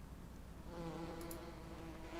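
Bees in Farming Simulator 17 give a steady insect-like buzz from a hive box, continuous and fairly close, with a faint higher shimmer partway through and no talk over it.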